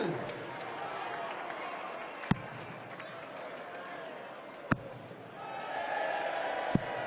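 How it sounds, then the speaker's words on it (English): Crowd at a PDC World Grand Prix darts quarter-final lets out mocking cheers and claps, a steady roar with a few sharp thuds, under a commentator's voice. "Ironic cheers from the crowd, but Thornton is angry"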